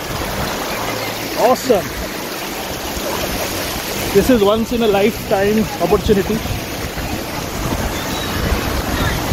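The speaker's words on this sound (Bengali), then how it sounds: "এটাই হচ্ছে রিভার্স ওয়াটারফল। জলের তোড় ভয়ঙ্কর" Water surges and rushes at Naneghat's reverse waterfall during monsoon rain, a steady roaring wash with wind buffeting the microphone, while people talk over it in bursts.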